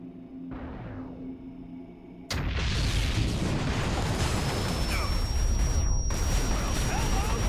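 Loud, dense rumbling blasts from Titan airstrikes in a video game start abruptly after a quieter tonal stretch and continue as a sustained heavy barrage with faint whistling tones overhead.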